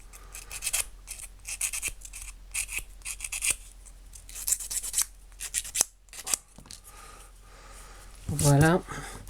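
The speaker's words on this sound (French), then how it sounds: "on lime bien tous les endroits qui nous semblent un peu irréguliers" A handmade Christmas hanging ornament has its irregular edges filed, giving repeated close scratchy rasping strokes in short bursts, with a voice speaking briefly near the end.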